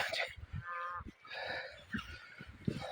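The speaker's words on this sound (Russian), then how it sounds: "Что-то мне уже не нравится такое количество коров." Cattle moo in a countryside setting near an ancient fortress town in Ingushetia, several drawn-out lows heard fairly close, with other animal calls in between.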